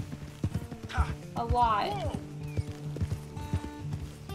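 Horse hooves clip-clop at a walking pace in Red Dead Redemption 2, a steady near rhythm running beneath a voice and a short spoken exchange.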